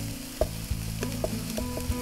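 Cumin, paprika, turmeric and another spice frying in a pan, stirred with a few distinct scraping knocks over a steady close sizzle, no voices.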